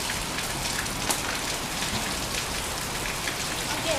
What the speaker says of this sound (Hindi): सुबह से बारिश हो रही है